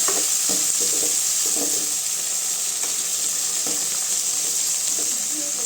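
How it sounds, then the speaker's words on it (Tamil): Tomatoes and onions with a little salt sauté in a pan for a soya chunk gravy, giving a steady loud sizzle broken by scraping stirs, close up. "இப்போ வெங்காயம் வதக்கிடுச்சுங்க. தக்காளி சேர்த்துக்கலாம். தக்காளி வதங்க கொஞ்சமாக உப்பு சேர்த்துக்கலாங்க."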